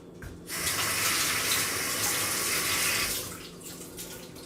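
Kitchen tap running at full flow to rinse an onion, a steady close splashing rush that starts abruptly and tapers off after about three seconds.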